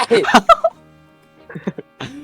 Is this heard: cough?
no